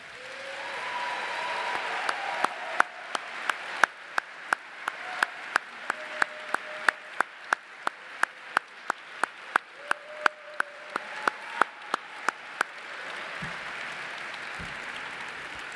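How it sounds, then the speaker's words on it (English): Applause for Ginger and Emily at the Arch Grants Nexus 2023 gala, a steady sustained clapping from the audience with sharp individual claps standing out, then tapering off near the end. "I think we should all give them a round of applause"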